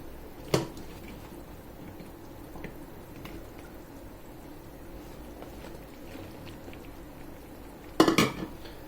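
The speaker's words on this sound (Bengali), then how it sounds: "এবার চারদিক দিয়ে একটু নাড়িয়ে দিব" Okra stirred in a cooking pan with shrimp and spices, a faint low sizzle with scattered light clinks, then a sharp metal clatter at the start and a louder burst of clattering near the end.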